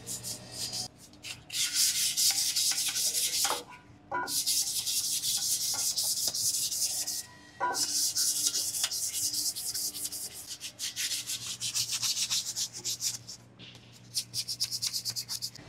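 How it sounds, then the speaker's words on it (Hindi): Rusty metal is hand-sanded to strip the rust before a coat of yellow metal primer. A steady, close, raspy scrubbing runs almost continuously, broken by a couple of brief pauses between strokes. "इसलिए हमें अच्छे से सैंडिंग करके हो सके उतना जंग पहले निकाल लेना है।"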